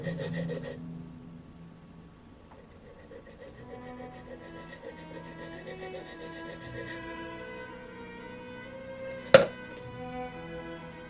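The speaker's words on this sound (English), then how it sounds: "This Nitram sharpening block is made for charcoal." Graphite pencil rubbed against a Nitram sharpening block made for charcoal, giving a soft, steady rasping scrape that continues quietly at close range, with a single sharp tap near the end.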